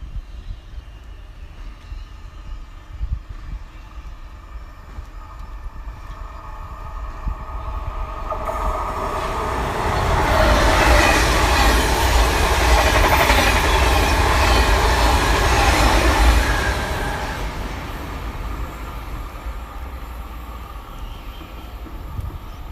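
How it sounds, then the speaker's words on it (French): A TGV Duplex high-speed train pulls into Cenon station, a loud rolling rumble and rushing roar that swells over several seconds, holds steady, then gradually eases off, heard alone against the station's background hum. "TGV Duplex qui arrive en face."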